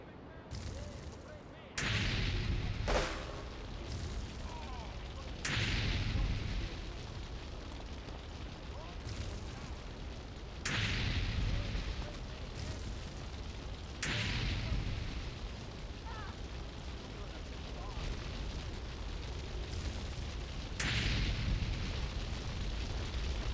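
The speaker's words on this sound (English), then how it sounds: "Let me chuck some grenades over there." Grenade blasts in GTA3, a string of loud booming explosions every few seconds over continuous game noise and rumble.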